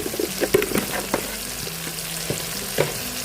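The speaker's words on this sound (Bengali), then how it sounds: "জিরে মশলা দিয়ে এই যে হালকা একটু জল দিয়ে ভালো করে আরেকটু ভেজে নেব।" Cumin spice paste with turmeric and a splash of water frying in a pan, a soft continuous sizzle broken by repeated scraping and tapping of a spoon stirring it.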